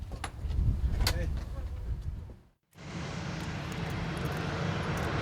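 A T-50B jet of the Black Eagles aerobatic team roars in a loud, steady broadband rush, with a brief drop to near silence midway before the roar resumes.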